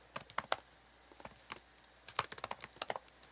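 Quick, light clicking of computer keyboard keys as text is typed into an Excel spreadsheet, coming in two irregular flurries separated by a short lull, close and crisp, with no speech.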